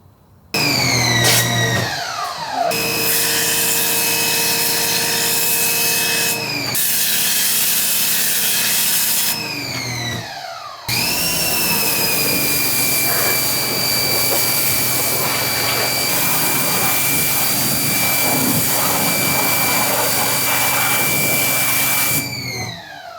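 A GiRAFFE Grandfalls G20 pressure washer cleans car wheels, its motor running loud and steady in long stretches with brief pauses as the trigger is released, pitch dipping and rising at each restart.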